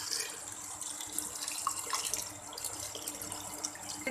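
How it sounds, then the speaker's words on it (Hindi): Water poured from a vessel into a pressure cooker pot holding soaked moong dal, a steady, close splashing and gurgling stream running continuously without speech. "अब मैं इसमें पानी डाल दूँगी।"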